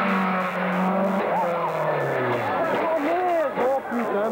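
A 1993 rally car skids with squealing tyres and then strikes something, the engine loud and close while a commentator speaks excitedly over the action.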